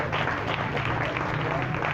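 A church congregation claps in steady, dense applause filling the room, fairly loud and continuous throughout.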